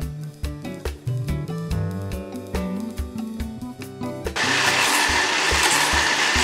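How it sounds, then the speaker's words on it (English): Condensed milk and coconut mixture is whisked. A loud, steady whirring starts about two-thirds through, after a stretch of rhythmic music. "I'm going to whisk the two some more"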